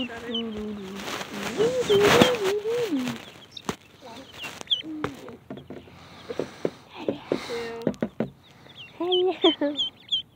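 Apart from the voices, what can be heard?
chickens and chicks clucking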